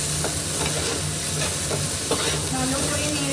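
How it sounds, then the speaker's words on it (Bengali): Tomato paste frying with spices in a pan, a loud dense sizzle filling the moment while a utensil stirs through it with faint scraping, close and continuous without speech. "টমেটো বাটা দিয়ে দিলাম, আবার ভালো করে কষিয়ে নেব।"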